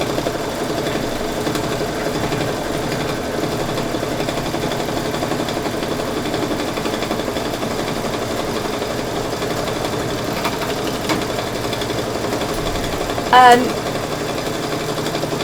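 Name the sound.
embroidery machine stitching a satin stitch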